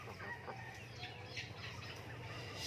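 Free-range native chickens on a small farm clucking softly in the background, with faint scattered calls over a low, steady ambient hum; no voices.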